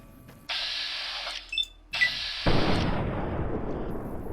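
A gunshot in Fallout New Vegas rings out as a sharp, loud crack followed by a rumbling echo that decays over the next couple of seconds, after a few short clicks and blips.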